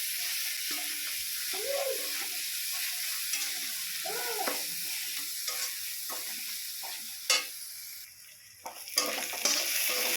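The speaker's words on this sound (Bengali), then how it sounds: "আর হলুদের গুঁড়ো একসঙ্গে দিয়ে এবার খুব সুন্দর করে কষিয়ে নেব।" Ginger-garlic paste, chili paste and turmeric are sautéed in a pan, a continuous soft sizzle underneath repeated spatula strokes and scrapes, with a couple of sharper clatters toward the end.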